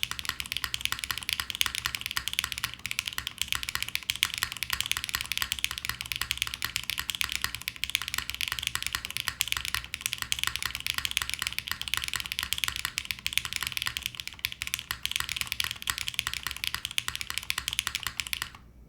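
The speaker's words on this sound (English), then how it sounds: "Keyboard sounds great, but I think the switches sound really, really good too." Mechanical keyboard with HMX Macchiato switches on a top-mounted FR4 plate, typed on steadily for the whole stretch: a dense, continuous run of close, crisp keystroke clacks with no talking.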